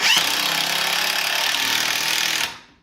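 A loud, continuous rattling impact-driver buzz drives screws into a countertop for nearly three seconds, then cuts off abruptly with a brief fade.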